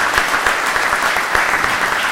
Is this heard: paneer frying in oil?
no